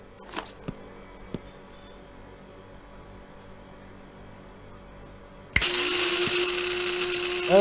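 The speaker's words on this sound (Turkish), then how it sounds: "Evet, blender kardeş karıştır bakalım." A blender whirs to life in the video game Barista Simulator, mixing a drink with ice. A few faint clicks and taps come first in near quiet, then the motor starts abruptly with a loud, steady whine that runs to the end.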